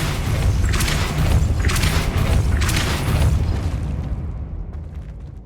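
In Hogwarts Legacy, Depulso force spell impacts land as a run of loud, rumbling booms in close succession, each swelling and overlapping before the noise thins out and decays into quieter rumble.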